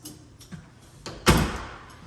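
A door in a house under construction swings closed, with a few faint taps and knocks before a sharp, close thump as it shuts near the end.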